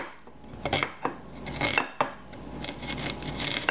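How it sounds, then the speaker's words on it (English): A kitchen knife chops and dices vegetables for pasta salad, sharp irregular taps and clacks against a cutting board with faint scraping in between, close and moderately loud. "I'm chopping it down in thirds,"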